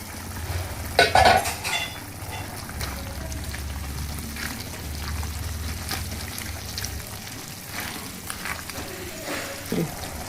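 Pork dropped into simmering stock in a pot for a pork and beef stew, with bubbling and sizzling, a few clinks of a utensil against the pot, and a brief splash.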